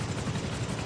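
A helicopter in the game Rust thrums with a heavy, continuous rotor and engine drone, close and steady throughout the brief moment.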